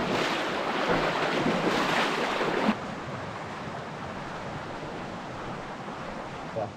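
River flowing past the wild hot springs of Taitung, Taiwan: a steady, close, broadband rushing roar with some wind buffeting. It is louder for the first few seconds, then settles to a slightly softer, even wash.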